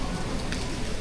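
Steady rain hisses down on a city street in Bogota, a dense, even wash of noise filling the short moment with no voices.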